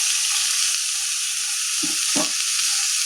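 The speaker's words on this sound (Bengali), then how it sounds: "দিয়ে দিচ্ছি সামান্য একটু জল, যাতে গুঁড়ো মশলাটা পুড়ে না যায়" Ground spices and salt sizzle in a pan after a splash of water is added, producing a steady bright hiss with a couple of brief clunks from a spoon or pan, and no talking.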